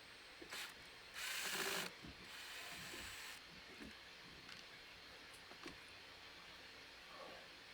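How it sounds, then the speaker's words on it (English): Screws come out of the control panel of a Dometic CF80 fridge that has a temperature fault. A screwdriver or driver makes quiet ratcheting clicks, with one louder whirring burst near the start, a softer run after it and scattered faint ticks. "we're going to go ahead and remove the 2 screws that hold it in place."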